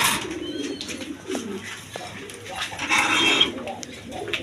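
A pair of pet pigeons coos close by, a few low rolling calls repeating over a few seconds against faint background noise.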